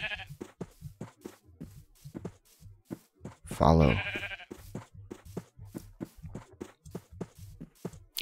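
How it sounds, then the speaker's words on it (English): Sheep in Minecraft bleat once loudly and nearby amid steady rhythmic footsteps on the ground, with a brief spoken word. "I should use this wheat to get the sheep to follow me."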